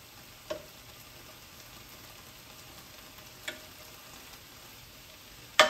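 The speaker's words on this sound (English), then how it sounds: "I can already feel the onions here are getting soft." Onions and green peppers fry in a pan with a faint, steady sizzle, broken by three sharp stirring clinks of a utensil against the pan.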